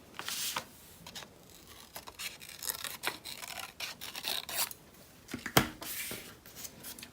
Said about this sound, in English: So I'm going to cut out a circle again.